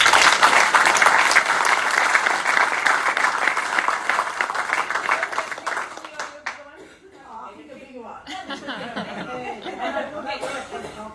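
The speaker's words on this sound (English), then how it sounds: "I'm sure that we would all like to give a huge round of applause to Jill this evening" A room full of people gives Jill a loud, dense round of applause that fades after about six seconds, then gives way to scattered chuckles, laughter and chatter.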